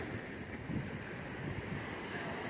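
Steady surf and ocean waves wash along the beach at Olinda, Brazil, a continuous broad roar mixed with wind noise on the microphone and no talking.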